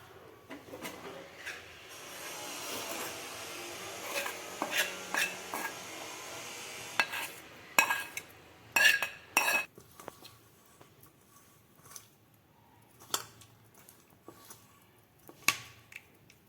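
Cooked rice being mixed with salt and mustard powder in a bowl with a spoon, quiet scraping and clinking in uneven bursts, a few sharper knocks of the spoon against the bowl's rim.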